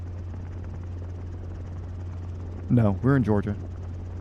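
A helicopter in flight on a first solo drones as a steady, close rotor and engine hum through the whole stretch, with someone speaking briefly over it near the end.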